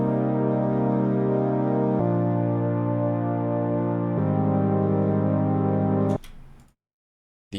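Layered software-synth pads, one of them a plain untreated init patch, play sustained warm chords that shift every couple of seconds, then cut off abruptly into near silence.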